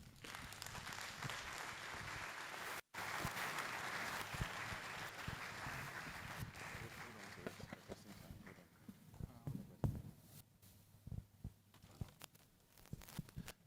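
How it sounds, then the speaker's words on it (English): Audience applause for a speaker at a professional project management talk, a dense steady clapping that runs loud for several seconds, briefly cuts out, then thins into scattered, uneven claps toward the end. "A round of applause for him again"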